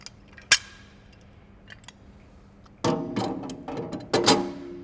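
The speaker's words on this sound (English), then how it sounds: "Put the rollers in place and put the pin back in." Sharp metallic clanks and ratcheting clicks as rollers and a pin are fitted on a Greenlee 555 conduit bender, one early knock, then a loud cluster of rattling metal contacts near the end.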